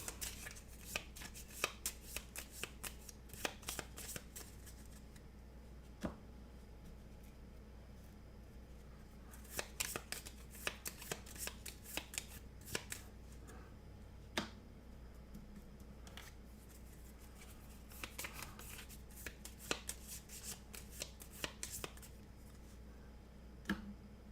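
A deck of cards being shuffled for a solo Rogue Dungeon board game, quiet close riffles and sharp flicking bursts in repeated clusters over a low steady room hum, with no talking.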